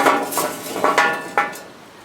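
Glowing charcoal is tipped out of a chimney starter for Dutch oven cooking of venison goulash, making a quick run of bright clinks and clattering knocks from the lumps that tapers into a fading settle.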